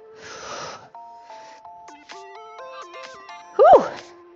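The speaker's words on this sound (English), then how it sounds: "Can you hear me breathing?" Heavy breathing during a chest and back workout comes as a few loud, close, breathy huffs, with pauses between them, over sustained tonal music.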